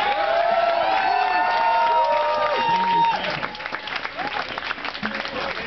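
Loud sustained applause and cheering from a crowd at an outdoor End the Fed rally in Los Angeles, with whoops over the clapping and shouting voices as it thins near the end.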